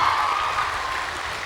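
An audience at an evening Kaamatan harvest festival gathering in Keningau applauds, a dense wash of many hands clapping at once, loud and steady throughout the short burst.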